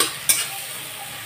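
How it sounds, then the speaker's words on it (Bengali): Tomato goes into frying onions in a pan on a koi fish curry stove, giving a brief sharp scrape of the spoon followed by a soft steady sizzle. "টমেটোটা দিয়ে এর উপর নাড়াচাড়া করবো যাতে টমেটোগুলো একদম গলে যায়।"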